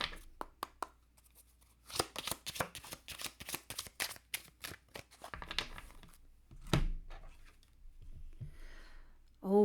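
Oracle cards being shuffled and drawn from a unicorn-themed deck, a run of quick crisp riffling snaps and papery flicks, close and fairly quiet, with a person speaking briefly near the end.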